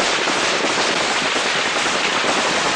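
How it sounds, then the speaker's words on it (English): Dense, continuous crackling bursts of rapid gunfire fill the whole stretch, loud and unbroken, like sustained automatic shooting in a firefight between Colombian Special Forces and men on a boat. "the Special Forces soldiers open fire, and a firefight ensues."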